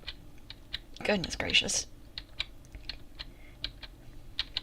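Rapid clicky keystrokes tap out an irregular rhythm on a noisy mechanical keyboard, briefly overlapped by a voice speaking.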